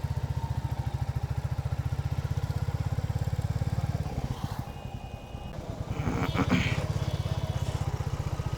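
A motorcycle engine idling close by while the bike is parked at a temple parking spot, a steady rapid putter that dips and sputters briefly midway before rising again, with some faint background noise.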